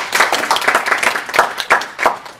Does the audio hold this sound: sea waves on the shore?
no